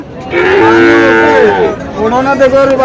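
A cow at the Chandimura cattle market in Comilla lets out one loud, close, drawn-out moo, followed by a softer second lowing, with faint market murmur in the background.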